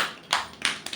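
A group of students clapping in a classroom, a few scattered claps over about a second, close and moderately loud, with no talking.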